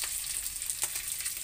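Fish left over from yesterday's meal is being reheated in a frying pan, giving a steady close sizzle of hot oil with faint crackles and small pops throughout, with no voices.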